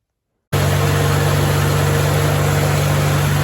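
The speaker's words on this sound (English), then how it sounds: "The old H fired up." The engine of a 1949 Farmall H tractor starts after a moment of silence and runs loud and steady at idle, a close, continuous low rumble with a harsh broadband roar and no talk.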